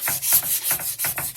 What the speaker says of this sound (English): And you know how to sand it, get the right angles on it.